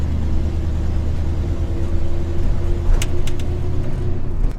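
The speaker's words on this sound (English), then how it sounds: "Oh, I still got some backfiring going" A 1966 car engine idles with a steady, low rumble. Around the middle, a short cluster of sharp backfire pops snaps out over the running engine, and nobody speaks.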